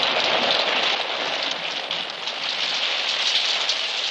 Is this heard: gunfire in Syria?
no